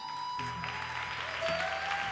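A congregation at a Shabbat celebration service claps and cheers briefly over a sustained musical tone, with the applause swelling slightly near the end.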